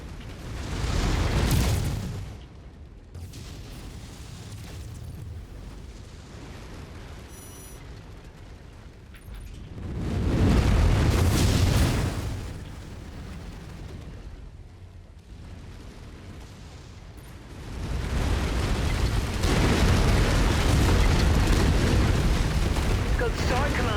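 Explosions tearing through a target facility in the MechWarrior 5 game, three heavy rumbling blasts swelling and fading in waves, with a voice talking between them.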